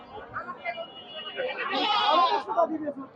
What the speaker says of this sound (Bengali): ব্ল্যাক বেঙ্গল বা দেশি জাতের ছাগল